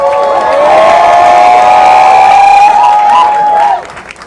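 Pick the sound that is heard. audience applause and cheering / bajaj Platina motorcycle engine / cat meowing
audience applause and cheering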